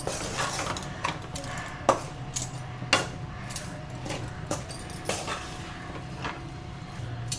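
A spoon stirs vanaspati in a pan over a low flame, in the making of a Chettinadu ukkara moong dal sweet. Close metallic scrapes and taps come at uneven intervals over a soft background hum, with no talking.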